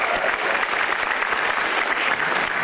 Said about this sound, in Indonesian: Tepuk tangan buat komik-komik kita.